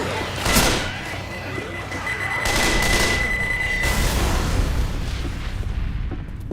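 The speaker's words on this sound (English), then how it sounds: "Throwing a pipe bomb." Gunfire bursts and a thrown pipe bomb in the zombie shooter Left 4 Dead 2, with a steady high electronic beeping tone running for about two seconds amid continuous rattling shots and rumbling combat noise.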